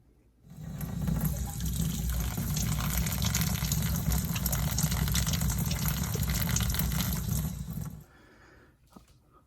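Tap water gushes steadily over a sub-ohm vape coil held under the stream, a loud continuous rush lasting about eight seconds before cutting off to near quiet.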